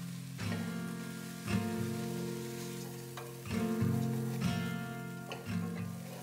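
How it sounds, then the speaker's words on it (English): Rice sautéing in a pan for a winter soup-style dish, a soft steady sizzle with periodic louder scraping stirs every second or so, close and without talk. "Rice. Sauté for a few minutes."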